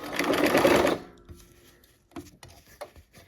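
Sewing machine stitching fabric along a scant quarter-inch seam with the needle down, a close rapid whirring burst lasting about a second, then quiet clicks and handling sounds as the fabric is pivoted.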